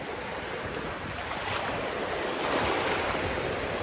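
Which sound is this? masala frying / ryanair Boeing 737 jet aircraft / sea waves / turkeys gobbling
sea waves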